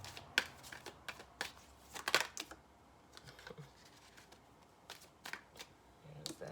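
Tarot cards are shuffled by hand in quiet bursts of soft riffling and flicking, with irregular taps and slaps close by at low volume.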